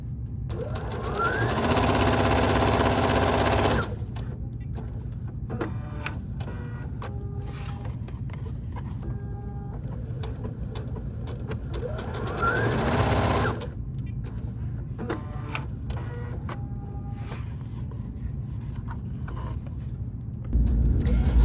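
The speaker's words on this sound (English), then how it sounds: "start sewing your pieces together. In this case, I'm sewing the brim" A sewing machine stitches patchwork fabric pieces for a bucket hat brim, running in loud sustained bursts separated by quieter gaps with small clicks and adjustments.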